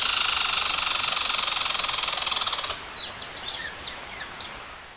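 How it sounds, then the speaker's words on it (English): A squirrel on a tree gives its cry or bark: a steady, noisy hiss fills the first half, then a quick series of sharp, high chirping calls comes in close and fairly loud. "Now that was the sound of a squirrel's cry or bark."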